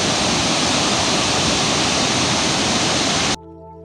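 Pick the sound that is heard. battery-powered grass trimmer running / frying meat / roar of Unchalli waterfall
roar of Unchalli waterfall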